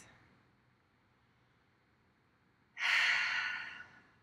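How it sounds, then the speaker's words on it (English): A single deep exhale rises out of near silence during a guided womb meditation, a soft, breathy sigh close to the microphone that swells and slowly fades. "So start to take a few deep breaths."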